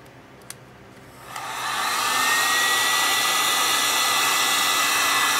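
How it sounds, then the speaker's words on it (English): A heat gun used on encaustic wax clicks on and ramps up into a loud, steady rushing blow that holds close and constant for several seconds, with no talk. "I'm going to move it a little bit with the heat gun."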